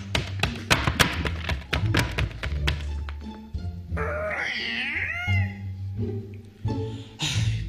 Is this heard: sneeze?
no